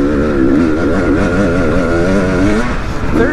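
A 2022 KTM 300 XC two-stroke dirt bike engine pulling hard in third gear, a loud, close buzzing drone with the pitch wavering up and down as the throttle rolls on and off, with no voices.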